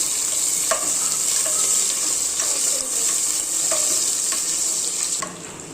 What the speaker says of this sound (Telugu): ఆనియన్స్ వేస్తున్నాను ఆనియన్స్ కూడా బాగా ఫ్రై అవ్వాలండి